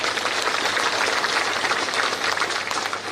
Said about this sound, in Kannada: ತಾವು ಎಲ್ಲರೂ ದೊಡ್ಡದಾಗಿ ಸತ್ತು ಬರೋ ರೀತಿಯಲ್ಲಿ ಚಪ್ಪಾಳೆ ಹಾಕಿ ಗೌರವವನ್ನ ಸೂಚಿಸಬೇಕು